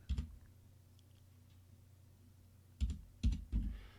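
Keys tapped on a computer keyboard while setting up firmware for a Creality CR-10S 3D printer, a quiet, sparse burst of clicks near the start and three louder, closer clacks toward the end over a low steady hum.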